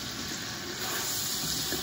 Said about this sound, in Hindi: थोड़ा सा पानी जो है वो शामिल कर लूँगी